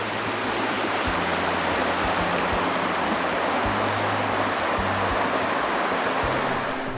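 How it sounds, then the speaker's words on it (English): Steady rushing water pours over a paved stream crossing on Bloody Basin Road in the Arizona desert, forming a small rapid; a continuous broadband roar close by, with a low engine idle humming underneath. "The sound of running water for a Phoenician"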